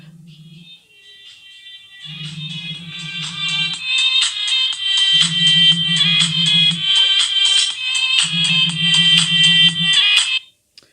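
A phone ringtone plays loudly and close, a bright repeating melody with a pulsing buzz of vibration underneath that comes in three bursts over about ten seconds, with no talking.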